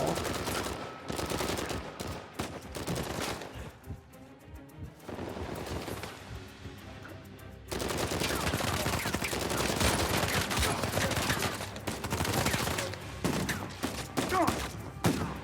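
Shotgun gunfire in Uncharted 4, dense bursts of loud, close shots with a brief quieter lull before heavy firing resumes and continues to the end, mixed with game effects.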